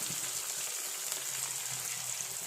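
Garlic, ginger and green chillies fry in a pan for pickle, giving a steady, close, crackling sizzle that sounds much like light rain on a surface.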